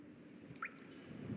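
A single faint drip of water lands in a quiet video game scene, one soft plink in the middle of a low hum, with a second muffled squishy drop near the end.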